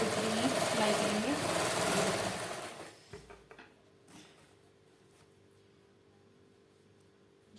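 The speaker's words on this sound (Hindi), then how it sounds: "इसमें भी हम सिलाई लाइन के ऊपर ही सिलाई करेंगे।" Stitching along a seam line on clothing, a sewing machine whirs steadily and fairly close for about three seconds, then stops, leaving a few faint clicks and quiet room sound.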